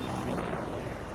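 A helicopter in Battlefield 2042 drones steadily and close, a broadband rotor-and-engine roar that holds constant for just over a second with no voices.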